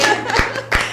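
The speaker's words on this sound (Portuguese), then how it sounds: "Palmas pra Rita!" Brief hand clapping for a podcast guest, a few sharp separate claps, with two loud strikes standing out near and clear.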